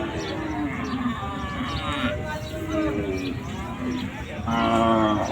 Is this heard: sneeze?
no